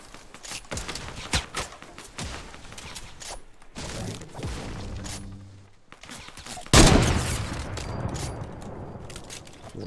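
Gunfire in Fortnite Battle Royale: scattered sharp shots and bursts with footsteps and thuds, then a loud blast near the end followed by more firing.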